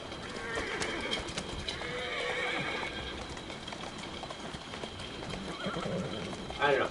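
A horse-drawn carriage in the video game Assassin's Creed Syndicate, with steady clip-clop hoofbeats, a horse whinnying, and bird coos over a moderate street-like background.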